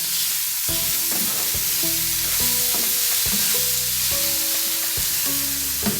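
Sloppy joe meat frying in a pan while being stirred, with a steady close sizzle and repeated scraping, clattering strokes throughout.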